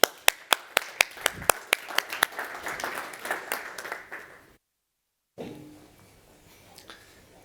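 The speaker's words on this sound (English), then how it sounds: "Please join me, give him a big applause." At a conference keynote, an audience welcomes the speaker with applause that begins as sharp, evenly spaced claps and swells into a fuller round before cutting off abruptly. Quiet room sound follows.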